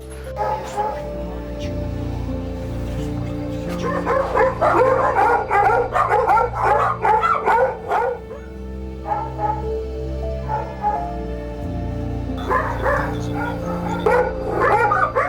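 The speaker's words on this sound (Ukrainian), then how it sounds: "Собаки тут." Several of a doctor's twelve dogs bark, yip and whimper in bursts, fairly close, in besieged Kyiv during the war, mixed with people talking and a steady low hum.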